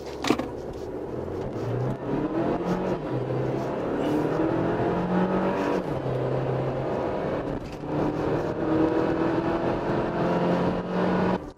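A Renault Samsung XM3 SUV with a 152-horsepower engine accelerates hard in sport mode. The engine and road roar grow steadily from inside the cabin over several gear changes, loud and continuous.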